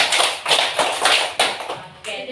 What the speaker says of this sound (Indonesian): Tepuk lingkaran untuk kelompok 2.